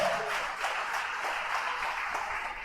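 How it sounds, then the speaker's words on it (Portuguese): A church congregation applauds together in a steady, moderately distant wash of clapping with no voices over it. "Aplauda Jesus, se você crê."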